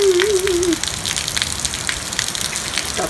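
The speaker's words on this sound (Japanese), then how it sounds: "名古屋大雨。" A heavy downpour pours on Nagoya under a line-shaped rainband in a steady, loud, close hiss of rain striking surfaces. A brief wavering tone sounds at the very start.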